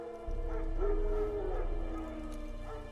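Wild dogs in the woods of The Witcher 3 give a drawn-out whining howl, mid-distance, rising and falling for about two seconds over a low ambient rumble.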